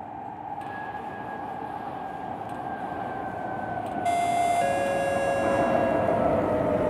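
A C751B train set arrives at Stadium Interchange station in the openBVE train simulator. A steady rolling hum rises as it comes in, and rising motor whine tones join near the end. No voices.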